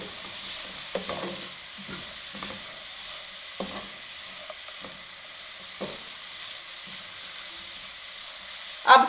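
Potato-free patty stuffing with finely chopped mint frying in a kadai, a steady soft sizzle with occasional stirring scrapes and clinks, close and alone, ending in a sharper clatter.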